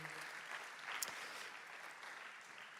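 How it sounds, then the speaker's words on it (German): Church congregation applauding during a Sunday evening service, a soft, even patter of clapping from many hands, fairly distant and quiet, with one slightly sharper burst midway. "Lass uns den Frau und Mann einen Applaus geben."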